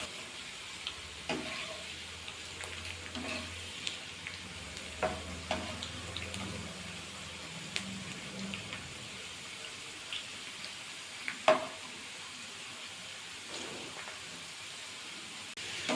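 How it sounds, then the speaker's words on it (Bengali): Thin potato slices fry in hot oil in a home kitchen, a faint, steady sizzle broken by occasional light clinks and scrapes as the chips are flipped and stirred. "দেখুন উল্টে পাল্টে কিন্তু লাল লাল করে ভাজা করে নিচ্ছি।"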